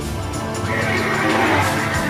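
Horses neigh and whinny loudly over a dense, steady backdrop, with no talking.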